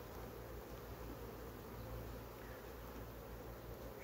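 Honey bees buzzing inside an opened beehive full of honey, a faint, dense, continuous hum with soft rustling and no talk.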